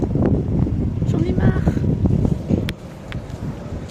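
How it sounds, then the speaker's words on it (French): Blustery wind buffets the microphone with a low, rumbling roar while a person speaks briefly over it. "Je n'en peux plus du vent."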